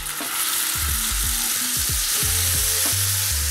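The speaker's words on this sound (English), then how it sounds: "So we wanna hear a nice sizzle." Lamb sizzles loudly in hot olive oil, a steady crackling sear with occasional soft scrapes and clinks from the pan.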